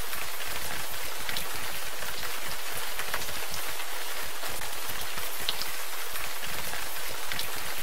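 Steady rain pours in the video game Gemini Rue, a dense continuous hiss of drops pattering on surfaces, even and unbroken throughout with no voices.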